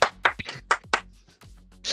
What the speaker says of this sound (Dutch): Ik verwacht een applaus